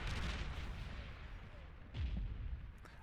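Artillery shells fire in the real-time strategy game Beyond All Reason during a large 8v8 match on Bismuth Valley, heard as a dense, rumbling barrage of booms with one heavier thump partway through.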